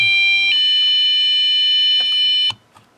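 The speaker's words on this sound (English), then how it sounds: "And then we'll go back to the actual alarm system. And it's fairly loud." Home Safe IR alarm (ISpy Defense) sounding a loud, piercing electronic tone with pulsing beeps, then abruptly stopping before the end.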